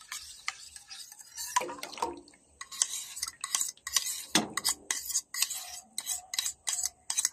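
Powdered milk mixture being stirred in a pot with a utensil, giving close, irregular scraping and clinking strokes with brief pauses.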